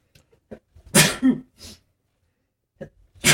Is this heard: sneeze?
yes